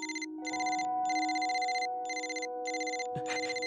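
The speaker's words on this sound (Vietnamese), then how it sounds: "Điện thoại của anh." A telephone rings in an animated cartoon scene with bursts of a bright electronic ringtone repeating at a steady rhythm over sustained lower tones, ending with a short sharp thump.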